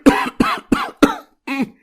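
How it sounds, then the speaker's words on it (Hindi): A man in a Hindi cartoon story coughs while drinking water: five sharp, harsh coughs in quick succession, close and loud, with no talking. "वो खांसते हुए पानी पीता है"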